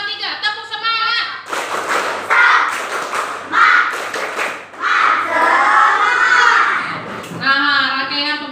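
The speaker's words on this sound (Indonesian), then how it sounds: "Kita kasih tepuk semangat dulu ya." A group of young children in a classroom perform a rhythmic spirit clap, loud chanting voices alternating with bursts of clapping and thumps in a patterned call.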